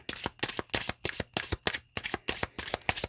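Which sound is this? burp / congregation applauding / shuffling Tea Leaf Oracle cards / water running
shuffling Tea Leaf Oracle cards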